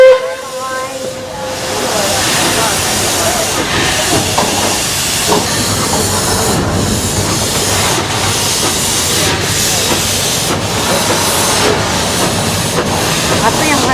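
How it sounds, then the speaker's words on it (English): Puffing Billy heritage steam train sets off: a steady hiss of steam with rhythmic chuffing building from the start, heard from on board at moderate loudness with faint voices of passengers under it. "Puffing Billy is starting its journey to Menzies Creek, and then from there we'll go to Lakeside."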